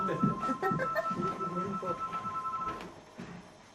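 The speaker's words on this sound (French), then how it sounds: "Téléphone." A telephone rings in a home during a French stage performance, a steady electronic ring under overlapping voices and room noise, then it stops near the end.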